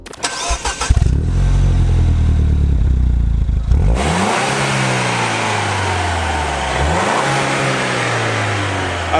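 A turbocharged Mini GP engine revs hard and loud nearby, rising in pitch through gear changes as it accelerates, with a throaty exhaust note.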